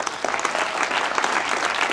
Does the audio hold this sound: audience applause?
yes